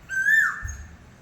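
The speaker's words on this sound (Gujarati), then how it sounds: "કોયલ બોલે છે" A single clear whistled bird call rising and then falling, heard alone against quiet background under dark rainy weather; it sounds like an Asian koel.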